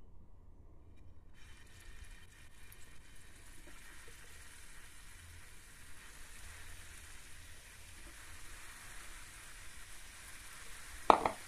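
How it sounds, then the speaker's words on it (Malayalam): Bread gulab jamun balls deep-fry in coconut oil over a low flame, a faint, even hiss of bubbling that begins after a second of near silence and ends with a brief clatter. "ഈ ബോള് നമ്മൾ ഇതിലേക്കിട്ട് ജസ്റ്റ് ഒന്ന് ഫ്രൈ ആക്കി എടുക്കണം."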